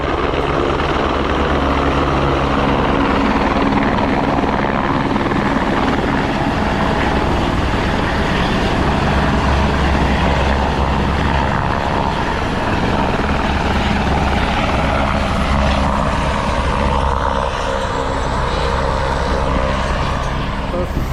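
Loud, steady helicopter rotor and engine roar at a helipad on the Govindghat to Ghangaria route fills the whole stretch, a low throbbing drone that never lets up, with faint voices beneath it.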